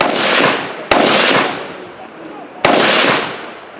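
Gunshots on a stage of a practical shooting competition: three loud sharp cracks, each trailing into a long reverberant roar, the first already ringing at the start and the others about a second or two apart.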